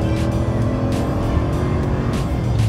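A 2018 Ram 2500 pickup's engine revs up in a sustained, loud roar as the truck accelerates, with steady road and wind noise and no talking.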